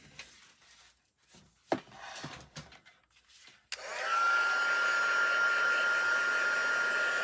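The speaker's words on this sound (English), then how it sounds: "All right, so heat tool at the ready." A few quiet handling knocks and rustles come first, then a heat embossing tool switches on and blows hot air in a loud, steady whirring roar that lasts to the end.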